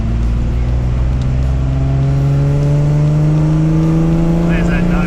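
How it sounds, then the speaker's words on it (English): A 1970 Ford Capri engine pulls up through its rev range, a loud, close, steadily rising drone with climbing harmonics and no talk over it. "let it pull right through the rev range here"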